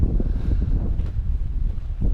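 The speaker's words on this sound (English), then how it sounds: "The wind's quite strong." Strong wind buffets the microphone at a February wild camp at 3337 feet in the Cairngorms: a continuous, loud, gusting low roar that swells and dips with no pause.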